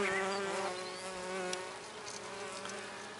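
Close, steady insect buzzing with wavering pitch, several mason bees droning together in agitated bursts as they fight at a tunnel entrance, no voices.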